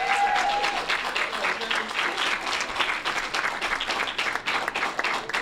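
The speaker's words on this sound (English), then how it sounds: "And here's why they're clapping about Mr. Tyson." Audience members at a school board meeting applaud, a steady round of clapping from a modest crowd in a room, with a brief voice at the start.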